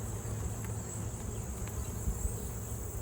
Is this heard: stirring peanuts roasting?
no